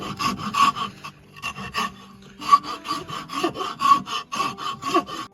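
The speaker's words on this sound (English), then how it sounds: "so I'm gonna thin it down a little bit more with the rasp" A rasp files down the wooden handle of a forged throwing axe in quick, rhythmic rasping strokes, close and fairly loud, with a short pause partway through.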